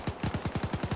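Rapid automatic gunfire in the video game Arma 3, about nine sharp shots in a steady burst across one second, loud and close with no talking.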